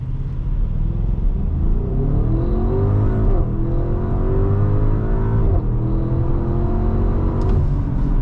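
A 2025 Audi SQ7 Prestige with the 4.0T engine launches hard in a 0 to 60 run on a hot day, its loud engine note climbing in pitch through several gear shifts, heard from inside the cabin.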